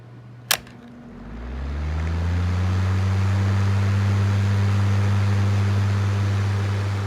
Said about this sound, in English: it's got a little bit of that ring, ring, ring, ring, you know, the C-frame motor sound